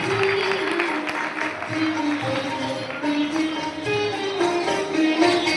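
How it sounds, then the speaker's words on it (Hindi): Audience applause at a stage play, a steady wash of clapping held at an even level throughout, with a tonal voice or music line running faintly underneath. "मेरी जोरदार ताली बजाकर स्वागत करें"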